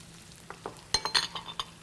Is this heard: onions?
yes